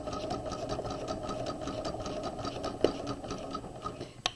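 A sewing machine runs a steady plain seam across a shoulder seam while a flat collar is being made, giving a continuous even whir of rapid stitches. A sharp click comes near the end.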